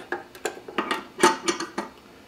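A metal pan support is set onto a Sartorius milligram laboratory balance, producing a series of light metallic clinks and taps at uneven intervals, close and fairly quiet, with no talking.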